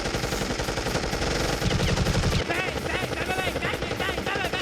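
Rapid gunfire rattles without pause in an animated Deadpool versus Deathstroke fight as bullets strike one another, loud and dense, with heavy bursts throughout.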